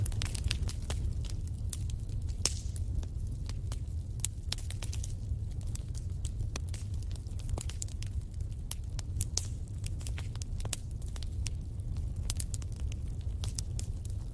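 Wood fire crackling steadily, with frequent sharp pops and snaps over a low continuous rumble, close and even throughout with no voices.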